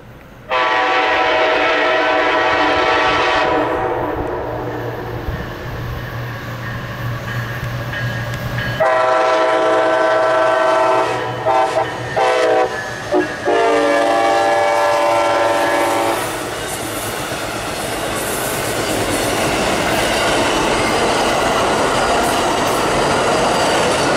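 Amtrak Silver Star passenger train on the CSX line near Langford, led by a pair of Siemens locomotives, sounds loud, sustained horn blasts close by, followed by the steady rumble and clatter of cars rolling past.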